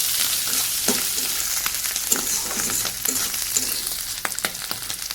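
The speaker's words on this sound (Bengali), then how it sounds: "চিংড়ি মাছ দিয়ে এটাকে আমি ভালো করে নেড়ে নিচ্ছি।" Prawns and onion fry in a pan while being stirred: a steady, close sizzle with repeated scraping and knocking of the spatula throughout, and no talk.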